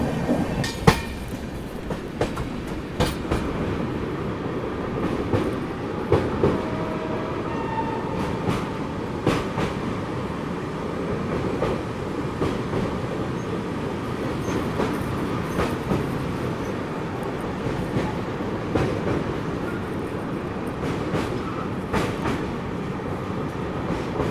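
The Sewagram Superfast Express from Mumbai to Nagpur runs on rails approaching Igatpuri, a steady interior rumble with repeated clickety-clack wheel beats over rail joints throughout.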